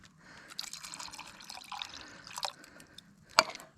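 Water splashes and drips from a tomato can into a cooking pot, with soft intermittent trickles, small plinks and one sharper splash near the end, heard close and quiet.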